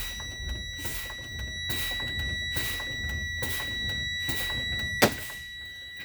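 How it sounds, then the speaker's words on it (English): A bus's low air pressure warning alert sounds as a steady high electronic tone, while the brakes are pumped down in repeated hissing, thumping bursts. "Around 70, my alert and line will go off."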